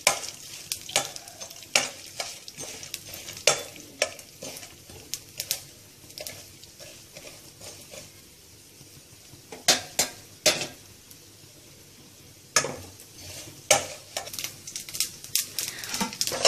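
Mustard seeds, cumin, dried red chillies, chana dal and urad dal tempering in hot oil in a pan, with faint sizzling under repeated sharp scraping and clinking of a spoon stirring against the metal, close and quiet.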